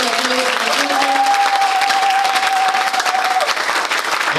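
A church congregation applauds for the Lord, with dense, loud, sustained clapping throughout and a brief sung or called tone rising above it.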